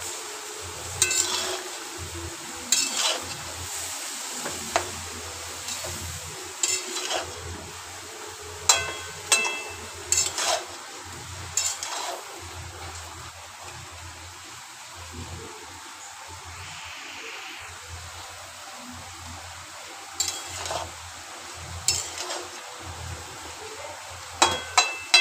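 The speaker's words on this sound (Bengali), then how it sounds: "একটু নাড়াচাড়া করে নেবো।" Vegetables stirred in a pan with repeated scraping and clinking of a utensil against the metal, over a low steady sizzle, close and with no talking.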